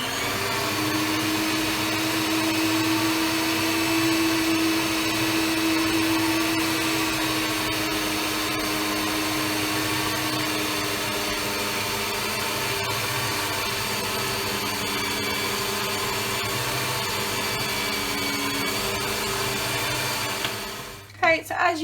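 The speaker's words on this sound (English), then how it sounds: "I'm going to whisk it again until it's only just combined." An electric mixer whisks cupcake batter with a steady, loud motor whir that runs continuously for about twenty seconds, then stops abruptly with a few clunks at the end.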